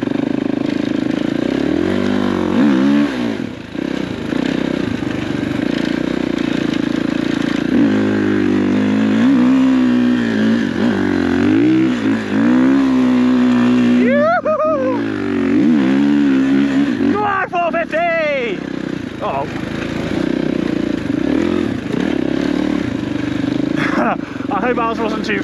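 A motocross bike ridden on an enduro trail, the engine revving up and down in repeated bursts close by, with people talking over it.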